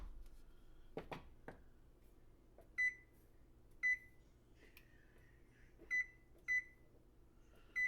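A kitchen timer being set while sauce simmers, giving several short electronic beeps at uneven intervals after a few soft clicks and knocks, close by in a quiet room.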